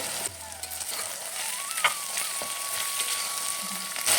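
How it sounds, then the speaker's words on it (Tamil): Mint and a single tomato sauté in a pan for Tamil coconut milk rice (thengai paal sadam), giving a steady close sizzle with occasional stirring scrapes and a faint tonal hum beneath, no talk. "இந்த தேங்காய் பால் சாதத்துக்கு ஹைலைட்டே புதினா தான் நல்லா வதங்கிடுச்சு ஒரே ஒரு தக்காளி"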